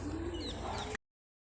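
Pigeons being taken out of their coop coo and chirp close by for about a second before the sound cuts off into silence.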